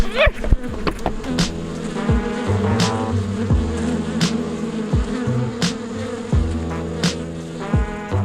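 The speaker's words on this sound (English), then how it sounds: "Is that a giant space bee? Multiple space bees?" Giant space bees in a Star Trek original series episode, loud droning insect buzzing with swelling passes and tonal whines, set against sci-fi sound effects.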